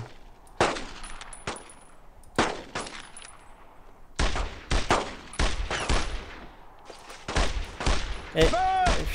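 Scattered rifle and machine-gun fire in the WWII shooter Brothers In Arms: Road to Hill 30, sharp separate bursts and single shots, loud and close, with a few pauses between volleys.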